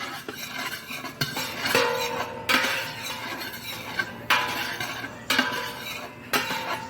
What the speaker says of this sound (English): So you just want to stir it so it doesn't burn.